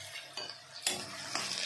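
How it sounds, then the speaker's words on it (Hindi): Onions fry in mustard oil in an iron kadai, giving a faint, soft sizzle with a few brief scraping stirs, close but quiet over less than two seconds. "मैं इसमें प्याज डालता हूं, और प्याज को हम ब्राउन होने तक का भूनेंगे।"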